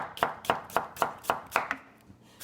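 A knife chops through chayote on a board in six steady, evenly spaced strokes, crisp and close, then a softer final cut trails off.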